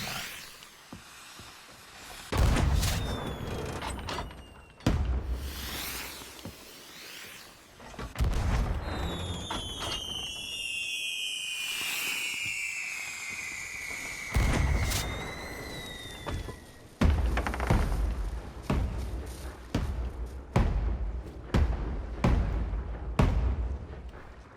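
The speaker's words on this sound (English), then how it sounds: "I think that was it for my fireworks, wasn't it?" Fireworks launched in a series of loud booming bursts, some followed by long whistling, screaming rising tones, with irregular spacing of the blasts and a steady outdoor background in between.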